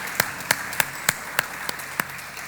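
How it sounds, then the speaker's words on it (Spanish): A church congregation claps during a worship service, a sparse, fairly even run of sharp individual claps about every third of a second, close and moderately loud with no voices over them. "Dele un aplauso al Señor para ver si le quitamos el frío."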